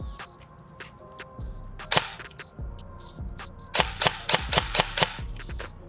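A G&G SRF 16 Enhanced Combat Machine airsoft electric rifle, run on an 11.1 LiPo battery, fires BBs in sharp clicking shots, single and in quick strings, with loud snaps near the end.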